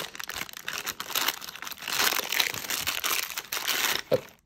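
A sealed plastic bag holding a smart light switch with a glass front panel is torn open, giving dense crinkling and crumpling of thin plastic close up, ending in a sharper rustle.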